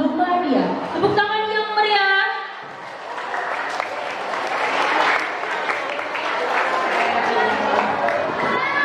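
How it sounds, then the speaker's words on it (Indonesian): Audience at a school expo applauding student performers from classes 8B and 9A, a broad sustained wash of clapping and cheers that follows a voice speaking over a mic. "beri tepuk tangan untuk Mada kelas 8B dan Mas Birun dari kelas 9A"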